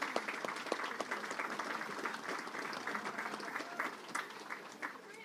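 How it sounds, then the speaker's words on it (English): Faint applause at a gathering after an over-40s Masters international match between Ireland and Australia, a soft, steady wash of clapping from a crowd with murmured talk mixed in. "So big round of applause to all the wives and girlfriends."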